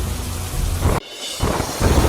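Heavy rain pours down in Bandra, Mumbai, making a loud, dense roar with low thunder rumbling underneath, briefly cut off before the downpour resumes.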